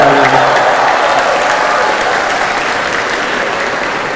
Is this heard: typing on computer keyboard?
no